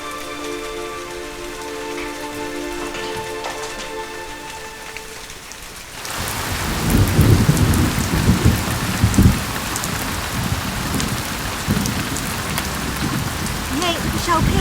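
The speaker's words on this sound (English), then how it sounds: "It's raining" Rain and thunder in a dramatic scene: steady background hiss at first, then from about six seconds a heavy, loud downpour with deep low rumbling swells in, continuing without pause.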